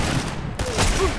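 Rapid bursts of gunfire in a Fortnite match run as a brief, dense fusillade for just over a second.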